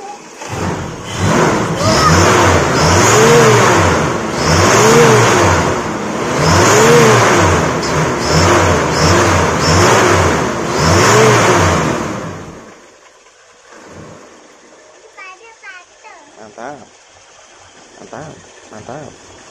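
A car engine converted to run on LPG gas revs loudly in repeated rising and falling surges for about twelve seconds, then drops to a quiet idle with faint background noise.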